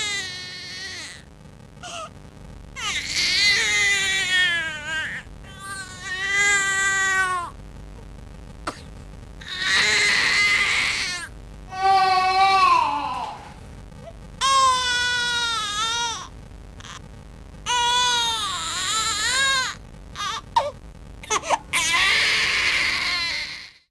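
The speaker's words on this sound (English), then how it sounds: "This sound indicates that your little one has lower wind." An infant cries with lower wind in a series of strained, rising-and-falling wails broken by short pauses and breaths, close and fairly loud, with no talking over it.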